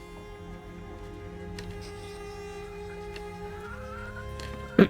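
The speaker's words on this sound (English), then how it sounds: "And you got chickens! I love me some chickens." Chickens clucking softly in the witchy crafting game REKA, faint bird calls over a low ambient music bed, with a brief louder squawk right at the end.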